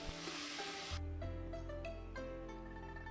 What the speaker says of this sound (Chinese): 切好的辣椒，快速的翻炒均匀